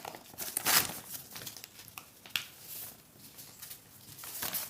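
A paper dress pattern being folded for sewing, with soft crinkling and rustling paper sounds, close and quiet, with a few sharper crackles.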